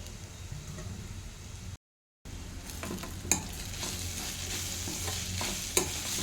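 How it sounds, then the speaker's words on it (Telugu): Meal maker soya chunks and egg frying in a pan with a dense, continuous sizzle and occasional stirring scrapes, briefly cut to silence midway before the frying resumes. "ఇది మంచిగా ఫ్రై అవ్వాలి"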